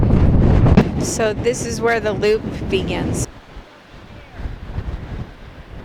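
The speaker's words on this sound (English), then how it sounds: "this wind is really nasty" Heavy gusting wind, over 60 miles an hour, buffets the microphone with a low roar on a hike to an ancient site, first under a man's speech, then rumbling on its own after he stops.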